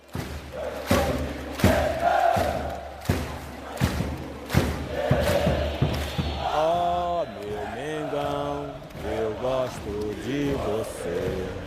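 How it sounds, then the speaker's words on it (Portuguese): Flamengo football supporters chanting together in a packed stadium during a match against São Paulo, with a rhythmic crowd roar and thumps, while a voice speaks over it. "A torcida então cantou como nunca."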